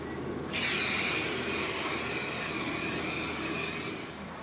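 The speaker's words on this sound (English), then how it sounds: "I've shaken this already, so I'm ready to start spraying." A steady, loud spray-paint aerosol hiss bursts on after a brief pause and sprays continuously for several seconds, close by, before easing slightly at the end.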